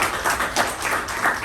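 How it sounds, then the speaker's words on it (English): A room of club members gives a round of applause, a short burst of pulsing hand claps at moderate level with no talk over it. "Let's give him a round of applause."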